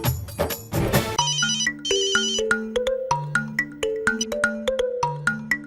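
A telephone ringtone plays a bright, melodic electronic tune of stepped notes, loud and close, repeating in a regular pattern with no talk over it.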